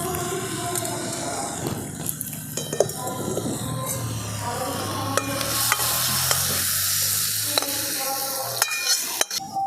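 A spoon stirs egg momo filling seasoned with soy sauce in a hot kadai, with a constant close sizzle and repeated scraping and clinking strokes against the pan throughout.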